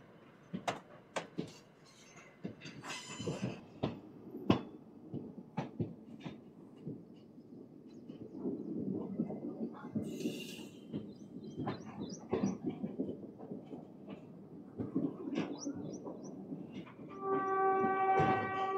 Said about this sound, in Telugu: ఆ గూడ్స్ వెళ్తుంది చూసారా